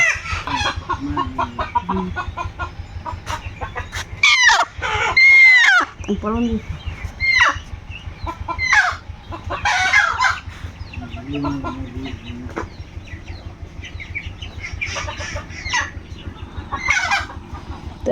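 Free-ranging village hens cluck in bursts with a rooster crowing among them, close and fairly loud, while a person talks over much of it.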